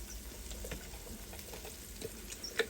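Chopped onions and garlic frying in a pan for chicken curry, a steady close sizzle with faint crackles and a light stirring knock near the end, no talking.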